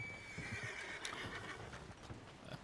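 A horse in a video game gives a loud, close neigh and whinny over clip-clopping hooves, with ambient game sound behind it.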